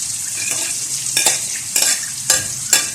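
Garlic and onion sauté in a pan for carbonara, giving a steady sizzle broken by about five sharp scraping stirs of a utensil against the pan, close and clear, with no talking.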